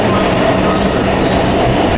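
A metro train rumbles through the deep underground Jai Hind metro station, a loud steady roar of wheels and carriages filling the whole stretch.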